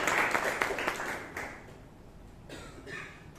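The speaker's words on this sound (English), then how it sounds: "Big round of applause to Hitesh." Audience applause for a speech at a Toastmasters club meeting in Bangalore, a short burst of clapping that fades quickly, followed by faint scattered sounds.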